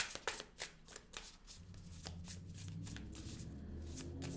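Tarot cards being shuffled by hand up close: several sharp riffling snaps at first, then a steady soft shuffling rustle, quiet and with no talking.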